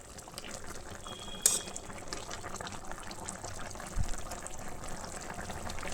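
Vegetables for shukto boiling in a pot, a soft steady bubbling simmer with a couple of brief louder pops or clinks, fairly quiet and without talk.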